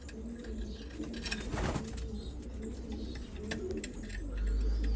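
Soft pigeon coos repeat faintly against a quiet, noisy outdoor background, with low rumbling toward the end.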